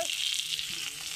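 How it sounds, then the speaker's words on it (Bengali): Fish fries in very hot oil with a dense, steady crackling sizzle, close and uninterrupted, with no voices. "তেলটা বেশি গরম করে দিচ্ছি যে কত সুন্দর মাছটি ভাজা হয়েছে"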